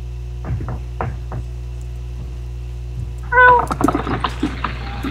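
A cat meows in the fantasy role-playing game Oblivion, giving a few short cries, then a louder burst of yowling near the end over a steady low game hum.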